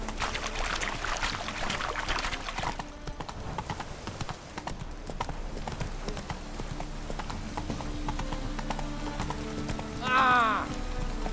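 Rhythmic hoofbeats of a galloping horse in The Witcher 3 run throughout, with a short neigh near the end, mixed with game music and a voice talking.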